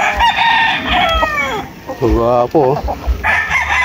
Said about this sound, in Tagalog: Yung mga nakatali ng manok.